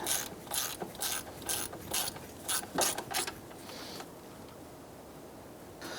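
Ratcheting of a hand wrench tightening the stopper bolt on a power steering pump of a 2005-2009 Subaru Outback, a quick series of close, crisp clicks in bursts, then a quieter pause with no talking.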